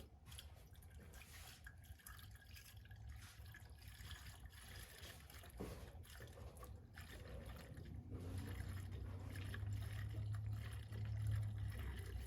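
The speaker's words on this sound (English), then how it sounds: "here is the first 1 gallon of the coolant that I'm gonna just start pouring in" Coolant pours from a one-gallon jug into the overflow reservoir of a 2012-2016 Chevy Impala with the 3.6L engine, a faint steady trickle and drip that grows slightly fuller toward the end.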